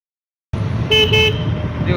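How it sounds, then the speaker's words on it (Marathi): A vehicle horn sounds in two short, loud honks about a second in, following a half-second of silence and set against steady street and engine noise. "हॉर्न वाजव रे गाड्याला."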